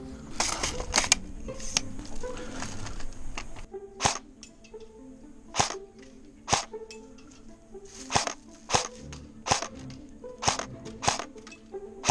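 A G&G GR14 airsoft electric rifle fires at targets in single sharp shots, a quick burst of several pops followed by a dozen evenly spaced crisp cracks, close and clear with quiet gaps between.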